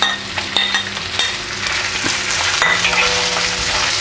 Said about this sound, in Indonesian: Kita masukin nih jamur hioko sama cabai merah sama cabai hijau.